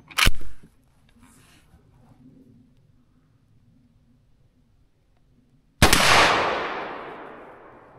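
A .357 Magnum revolver fires two sharp, loud shots several seconds apart, each a sudden crack with a ringing outdoor echo that fades slowly, with a faint low hum in between.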